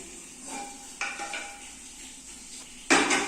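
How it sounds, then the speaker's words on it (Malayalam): A metal pan is set down on a kitchen stove before roasting ingredients for puliyodharai, giving a few soft clanks and scrapes, the last one louder, with no talk. "അപ്പൊ അതിന് വേണ്ടിട്ട് ഞാൻ ഇവിടെ പാൻ വെക്കുകയാണ്"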